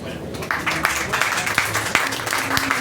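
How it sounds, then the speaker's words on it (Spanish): Audience applause at a panel discussion, dense clapping from a crowd, close and fairly loud, with a few sharper individual claps and a voice faintly underneath. "Un aplauso, qué genial."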